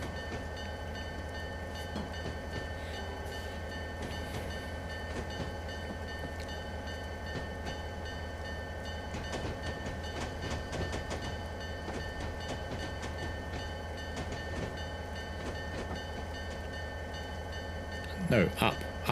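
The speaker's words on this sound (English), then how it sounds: "See, that's the train you're gradually putting together through the scenarios." Train running on rails in a train simulator video game, a continuous rumbling roll with faint rhythmic clicking, steady throughout and closing with a few brief sharper bumps.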